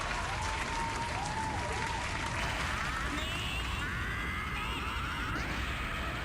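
A round of applause sound effect: dense, steady crowd clapping with scattered cheers and whistles, loud and continuous throughout.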